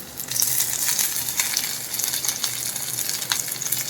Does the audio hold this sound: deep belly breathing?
no